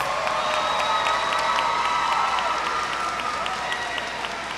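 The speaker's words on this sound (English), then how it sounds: "Please give our graduates a round of applause." Sustained applause from an audience at a high school graduation ceremony, steady, dense clapping with some cheering mixed in, filling the hall throughout.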